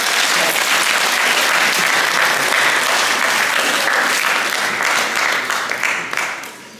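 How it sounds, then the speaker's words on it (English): A high school assembly audience bursts into sustained, loud applause from a crowded room, the dense clapping holding steady before tapering off near the end. "Round of applause for that person right there."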